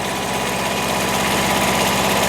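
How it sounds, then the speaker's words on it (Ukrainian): A Kubota tractor engine runs steadily at close range while digging potatoes with a digger, a loud continuous throbbing drone with no pauses. "Кубота сам рулює на автопілоті з чинчинарем."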